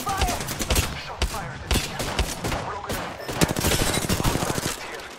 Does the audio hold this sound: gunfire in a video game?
yes